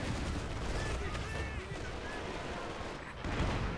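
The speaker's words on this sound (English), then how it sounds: "Werfer barrage coming in against the" A rocket artillery barrage in a WWII real-time strategy game: a dense, continuous rumble of distant explosions and gunfire with whistling streaks overhead, a heavier burst near the end, and casters talking underneath.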